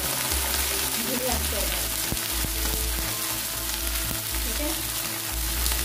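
Browned onion and ginger garlic paste fry in a pan with a continuous loud sizzle and occasional stirring taps, while a person speaks briefly over it.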